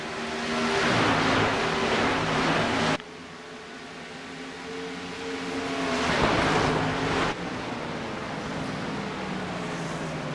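REV Racing MPI Series race cars at Homestead roaring past on the track, two loud engine sweeps that rise and cut off abruptly, with the field's drone continuing steadily between passes.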